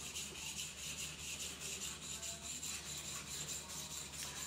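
A knife blade is polished on a sharpening stone, with steady back-and-forth rasping strokes in an even rhythm, close and quiet with no voices.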